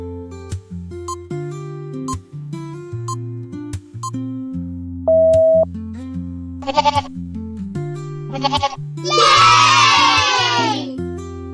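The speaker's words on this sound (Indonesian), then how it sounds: "Bunyi suara kambing." A goat bleats in a children's animal-guessing game, a few wavering cries toward the end that grow into a long, loud, quavering call over a bouncy background music bed.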